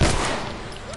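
A single loud gunshot from the video game The Last of Us: Left Behind cracks at the very start and then trails off into a fading, noisy tail.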